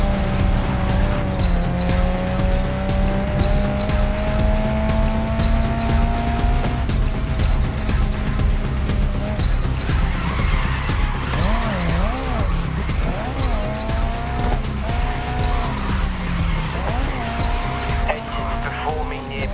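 A race car in the Grid Legends video game roars at high revs through upshifts, with repeated tire squeals and skids through corners and a voice talking over the engine at times.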